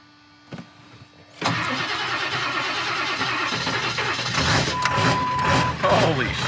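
A 1999 Ford F250 with the 7.3 diesel cranks in cold weather, then catches abruptly and settles into a loud, close, rumbling run with a clattering idle that rises and dips slightly.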